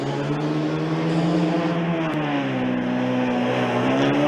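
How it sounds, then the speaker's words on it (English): A Formula Student race car's engine sits on the rev limiter during the 2018 Formula Student Germany endurance event, producing a steady, sustained buzzing engine note that wavers slightly in pitch and stays loud and continuous throughout. "you can clearly hear the car being in the rev limiter already about halfway to straight"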